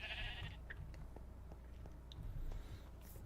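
A single short bleat from a sheep in Minecraft opens the moment, followed by quiet game ambience with faint clicks and soft background hum.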